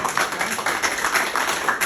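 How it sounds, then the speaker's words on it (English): Brief clapping from a small group at an Iowa Democratic Party event, a few seconds of scattered hand claps at moderate volume with no speech. "We should give him a round of applause for that."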